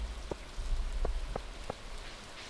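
Rain falling in the farming game Stardew Valley, a steady soft hiss with a few light, sharp taps scattered through it. No voices are heard.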